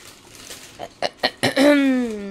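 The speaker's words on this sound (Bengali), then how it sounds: "কাশিটা কমতেছে না।" A persistent cough comes as four short, sharp bursts in quick succession at close range, followed by a drawn-out vocal sound.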